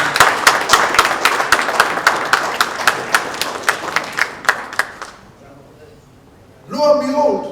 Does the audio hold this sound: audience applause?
yes